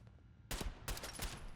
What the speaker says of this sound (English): What is shooting me? Is it the raider?